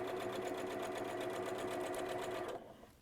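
A sewing machine stitches fabric in a rapid, steady mechanical run for about two and a half seconds, then stops, heard up close.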